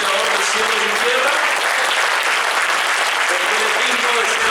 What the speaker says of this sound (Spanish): denle un fuerte aplauso a nuestro Dios, el Dios creador del cielo y la tierra